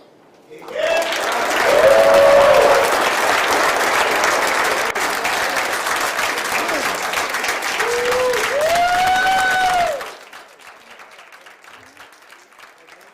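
Loud applause fills a crowded hall at a school board Black History Month observance, swelling quickly and holding steady for about nine seconds before cutting off, with cheers and a voice riding over the clapping.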